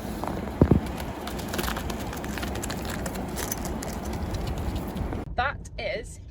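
Parrots call around a windy campsite at Wilsons Promontory National Park, with brief chirps and squawks over strong, steady wind roar, and sharper calls near the end.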